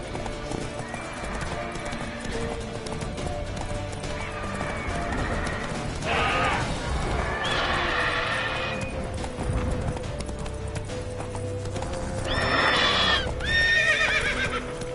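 Roach the horse in The Witcher 3 gallops with steady rhythmic hoofbeats throughout, breaking into loud whinnies around the middle and again near the end over a busy game soundscape.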